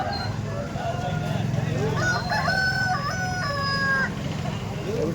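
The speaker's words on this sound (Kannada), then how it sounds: "ಕೋಳಿ ಬಂದಿದ್ದಾವೆ ನೋಡ್ಬೋದು" An Andhra breed rooster crows with a long, drawn-out call, and another bird clucks or crows nearby, all over a low, steady background murmur.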